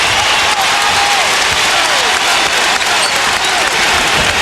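Basketball crowd at an NCAA game between Pennsylvania and North Carolina, roaring and applauding after a three-pointer, a loud, dense, sustained wash of clapping and cheering from start to finish.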